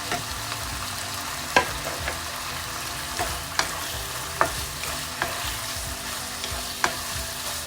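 Instant noodles with chicken and prawn are stir-fried in a pan, a steady sizzle broken by regular knocks and scrapes of the spatula every second or so, close and moderately loud, with no talking.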